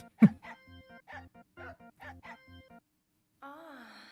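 A dog barks repeatedly in Silent Hill 2 Remake, a steady run of short barks roughly twice a second, followed by a brief whine or wavering tone.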